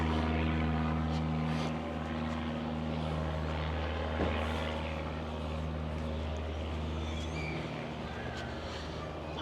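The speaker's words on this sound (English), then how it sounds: "You got an aircraft up there flying." An aircraft flies overhead on an evening walk along the Blackpool promenade, its steady engine drone holding loud and continuous throughout, with faint street ambience underneath and no talking.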